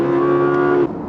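An Audi R8 V10 Performance supercar engine holds a loud, sustained high-pitched rev in second gear, then drops off abruptly near the end.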